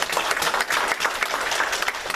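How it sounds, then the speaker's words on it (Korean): A church congregation at a Sunday service applauds to welcome someone, a short, lively burst of many hands clapping with uneven, crackling peaks and no voices on top. "우리 그래도 박수로 환영하겠습니다."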